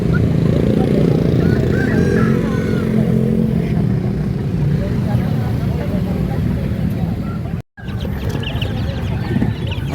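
Young Bangkok fighting chicken chicks, about a month old, clucking and chirping steadily over a constant background rumble, with a brief break in the sound near the end.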